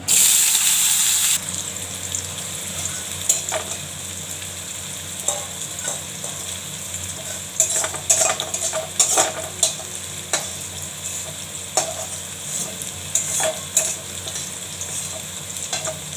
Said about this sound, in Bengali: আলুটা আগে ভেজে নিচ্ছি।